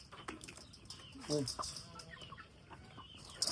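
A rooster clucks briefly amid a flurry of soft barnyard noise, with a short harmonic call in the middle and scattered rustling around it.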